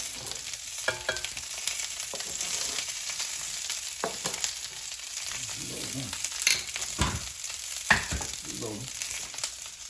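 Publix pineapple bacon sausage with peppers and onions frying in a pan, giving a steady close sizzle with occasional clatters and scrapes of stirring.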